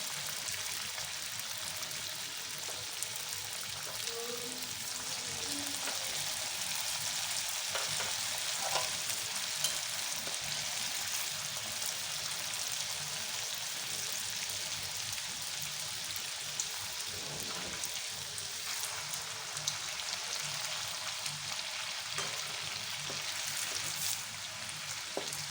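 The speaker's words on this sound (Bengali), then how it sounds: "এবার একে একে কোপ্তাগুলো ছেড়ে দেব" Jackfruit koftas fry in hot oil over a medium gas flame, a steady dense hiss and crackle like rain that lasts throughout, with a few light pops, no voices.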